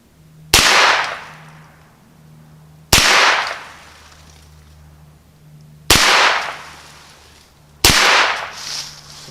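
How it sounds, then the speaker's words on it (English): Four sharp, loud shots from a Ruger PC Carbine, fired one at a time at an unhurried, fairly even pace. Each crack rings out and decays before the next. "gonna fire 4 more from the PC Carbine, see how that works."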